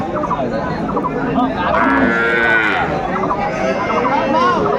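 A cow at the Aftabganj cattle market, where milking cows are sold with their calves, gives a loud, drawn-out moo near the middle amid a crowded outdoor din, with people talking around it.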